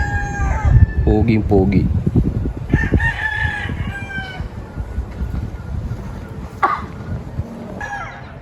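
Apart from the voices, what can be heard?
rooster crowing, Golden Ball gamecock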